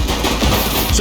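Rapid automatic gunfire from a police video game shootout, loud and continuous bursts filling the whole moment with no pause.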